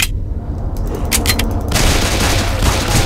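Rapid, dense gunfire from a gun with infinite ammo in the video game SAS Zombie Assault 4, loud and sustained automatic bursts with booming shots running throughout.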